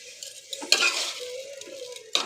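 Dried fish stirred into a radish curry in a pan, with a spoon scraping and clinking through the mix over a soft, steady sizzle; the stirring comes in a few bursts, near and moderately loud.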